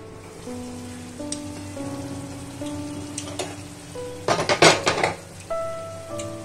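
A metal lid is lifted off a pot of cooked bottle gourd, a clattering scrape and rattle of metal after a stretch of low hum and faint clinks.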